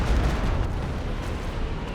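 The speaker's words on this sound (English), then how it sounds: "Good down the Katusha Barrage." Katyusha rocket barrage in the World War II strategy game Company of Heroes 2, heard as a dense, continuous rumble of overlapping blasts and booms, loud and steady throughout with no talk.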